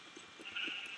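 Faint, muffled bleats of a Minecraft sheep repeat softly under a steady airy hiss, with a few low thumps in the background.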